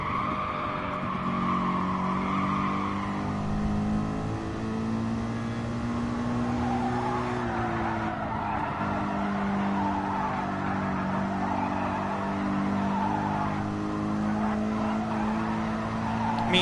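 A race car in the GT Sport video game held at full throttle, its engine droning loud and steady with shifting pitch while tires squeal through corners, continuous and close throughout.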